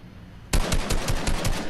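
Automatic gunfire in the Fortnite video game, a sudden rapid burst of about eight sharp, loud shots in quick rhythm after a brief quiet moment, with no voices.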